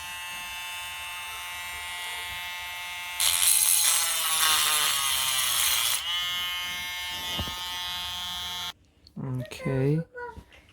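A small handheld power tool shaves down a plastic servo mount on an RC Ferrari drift car, a steady high-pitched electric whine that rises to a harsher grinding buzz partway through, close up, followed by a brief voice.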